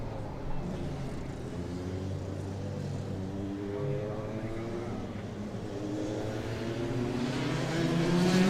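Several Rotax racing karts on a formation lap at the Rotax Max Challenge Namibia, their engines droning steadily together at a moderate distance and rising slightly toward the end, with a commentator talking over the sound.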